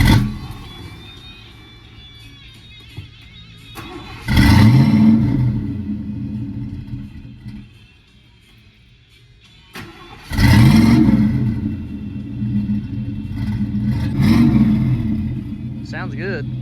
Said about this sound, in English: Dad wants to start the van up for everybody.